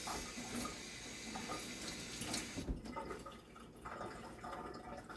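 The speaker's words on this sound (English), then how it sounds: "Let me just wash my hands." A kitchen tap runs steadily while hands are washed under it, water splashing and gurgling into the sink throughout.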